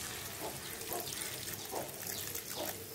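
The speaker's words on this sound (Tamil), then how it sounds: "தண்ணி சேர்த்துக்கலாம்." Water poured into a cooking pan of dried fish gravy, a continuous splashing, gurgling stream with a few surges, close and alone without talk.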